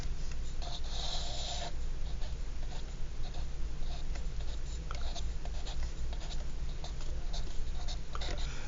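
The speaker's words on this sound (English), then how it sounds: "I'm going to try to draw this out." A pen or pencil scratches steadily on paper or a board while a graph is drawn by hand, with short strokes and pauses. Faint and close, over a low background hum.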